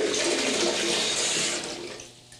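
Hot water running from a tap into a bathtub, a steady rushing splash that tapers off toward the end as the flow is shut.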